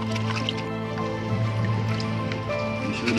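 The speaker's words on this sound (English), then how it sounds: "Make sure that you stir so that all the oil, the salt, the sniper, the kerosene, everything can mix very well." Oil, salt, kerosene and snail-farm pesticide are stirred together in a container, giving wet dripping, squishing liquid sounds at close range with a steady low hum beneath.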